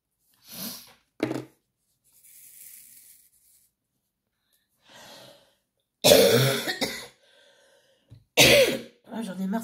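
Several harsh, raspy coughs and throat clearings from one person come in bursts between quiet pauses, close and fairly loud, with faint breathing sounds in the gaps.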